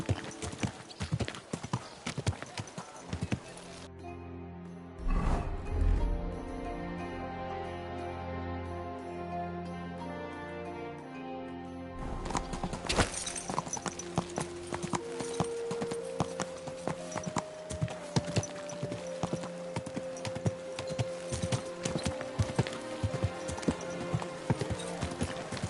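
Horse hooves clip-clop through Kingdom Come Deliverance 2, steady and rhythmic over a medieval backdrop. A brief heavier rumble comes midway, then the hoofbeats return close and brisk.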